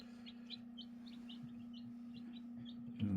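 Baby chicks peep in a series of high, thin chirps spaced through the clip over a steady low hum, ending with a brief louder rustle.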